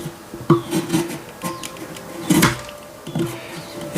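Close rasping cuts through a wooden hull plank on a model ship, several short scraping strokes in an uneven rhythm with pauses between them.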